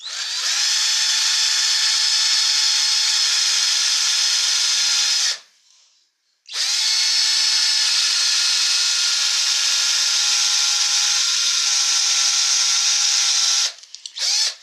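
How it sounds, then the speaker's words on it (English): A power drill bores a hole down through basswood during caricature cowboy bottle stopper carving, a loud steady whine running for several seconds, halting briefly, then resuming before a final stutter. "I'm going to drill right down through here. It'll be a little noisy, but probably not too bad."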